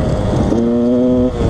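A Yamaha DTR 125 two-stroke enduro motorcycle engine revving up as the clutch is eased, a buzzing tone that rises and holds briefly before dropping back, loud and close over steady engine noise.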